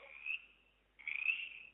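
A frog gives two raspy, trilling croaks separated by a brief pause, the second one louder and longer, heard alone and fairly faint.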